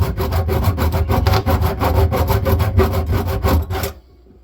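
A hand saw cutting back and forth through the metal top nut of a leaking, stuck kitchen sink basket strainer, loud close rhythmic rasping strokes that stop abruptly near the end.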